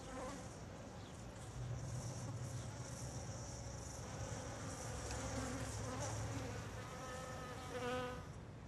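Wasps buzz steadily around a nest inside an abandoned building in a park, a continuous close insect drone with overlapping wingbeats that swells slightly, heard alone without talk.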